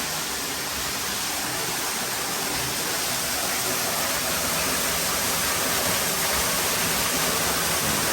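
Steady, broadband roar of a waterfall at Rock City on Lookout Mountain, Georgia, continuous and fairly loud throughout with no break and no voices.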